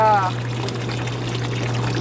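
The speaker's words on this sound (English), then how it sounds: "pouring out the dirty water" Dirty water pours steadily out of a container inside a small trailer, a continuous close splashing stream under a constant low hum.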